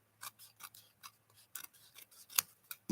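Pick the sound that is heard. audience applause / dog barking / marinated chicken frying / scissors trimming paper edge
scissors trimming paper edge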